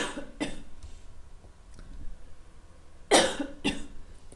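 Several sharp coughs, a couple early and a louder pair near the end, close up with quiet gaps between.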